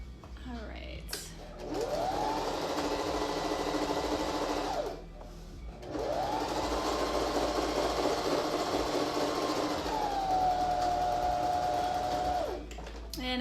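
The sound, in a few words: sewing machine back stitching a face mask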